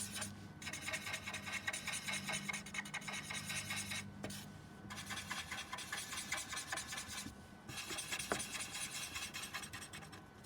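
Chisel-nib alcohol marker rubbed back and forth across paper to color a broad area, a continuous close scratchy rasping in long strokes with a few short pauses.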